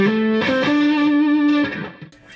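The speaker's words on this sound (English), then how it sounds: "We can try a rat type distortion." Sire S7 electric guitar played through a rat-type distortion pedal, a loud, thick sustained chord ringing alone and then decaying toward the end.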